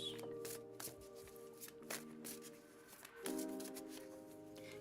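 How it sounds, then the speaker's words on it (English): Tarot cards are shuffled close up in a steady series of quick riffles and soft slaps, fairly quiet, with a faint hum in the background. "Let's go ahead and start shuffling."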